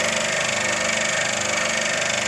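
A Japanese 100V power tool fitted with a dust collector runs at a steady, loud, continuous drone with an even motor whine and no pauses.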